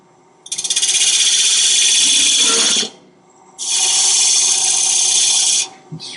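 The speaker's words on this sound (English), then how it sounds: "It scrapes off the top of those beads just wonderful." A woodworking scraper tool takes the tops off wood beads in two long, loud rasping strokes of about two and a half seconds each, separated by a short pause.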